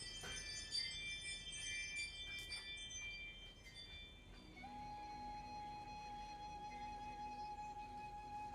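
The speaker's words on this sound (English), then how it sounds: "until you hear the sound of the bells" Meditation bells ring softly in a quiet room: several bright, bell-like strikes with shimmering overtones, then one long, faint tone that hangs and slowly decays.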